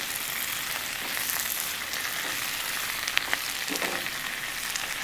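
Mushrooms cooking down in a pan with sauce for a Cajun stir fry, giving a steady, fairly close frying sizzle with a few faint stirring clicks and no talking.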